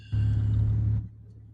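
A car engine idles in a low steady rumble on a snowy Cleveland street, holding for about a second before it cuts off, leaving quiet behind.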